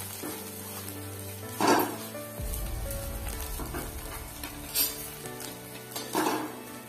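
Fish roe jhuro being stirred in a pan with garam masala just before serving, the gas turned off; a low sizzle runs underneath while a spoon scrapes and clinks against the metal in a few distinct knocks.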